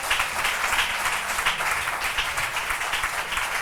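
A church congregation applauding together during worship, a dense, steady wash of clapping that holds at an even loudness throughout with no voices standing out.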